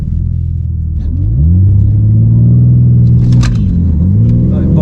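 A BMW G80 M3 Competition launches at a drag strip, its engine rumbling low and loud, then the note sweeps upward and holds before dipping as revs change, heard close and without talk.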